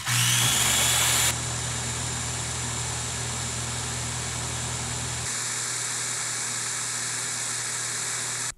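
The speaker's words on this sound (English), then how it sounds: "Test number four, a blender." A blender runs continuously with a loud, steady motor whine and a strong low hum, the tone dropping slightly in pitch partway through.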